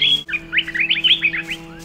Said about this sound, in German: Gibt es hier Vögel oder was? Ist hier ein Vögel im Baum?